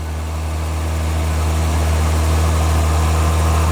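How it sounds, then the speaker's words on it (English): A Volvo T6 engine idles with a custom air intake fitted, giving a loud, steady low drone with a constant hum and a faint airy rush through the intake piping, with no talking. "We can actually hear the sound of the air going through the piping."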